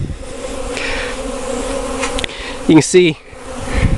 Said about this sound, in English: They're just getting out, cleaning out the hive, stretching their wings